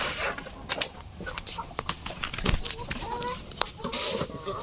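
Chickens on a chicken farm cluck and squawk in overlapping bursts, fairly close and busy, with brief talk and some scuffling mixed in.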